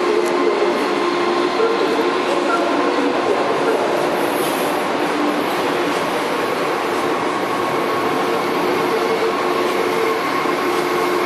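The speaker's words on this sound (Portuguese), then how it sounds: "E aqui é a série 2000 partindo." Series 2000 commuter train pulling away from the Roosevelt depot, a steady, loud rumble of rolling cars and rail noise that carries evenly through the whole span, with faint wheel squeal and no talking.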